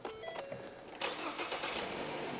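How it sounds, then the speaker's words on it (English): An engine fires up and settles into a steady, close rumble as a car is pulled forward a short distance, with the sound growing louder and fuller after the first second. "So we just pull the car forward then a little bit?"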